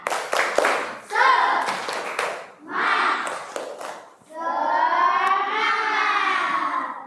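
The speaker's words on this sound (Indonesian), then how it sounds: "kita ice breaking. Tepuk semangat." A group claps a quick rhythmic pattern up close as a classroom ice-breaker, then voices join in loud, drawn-out shouts together.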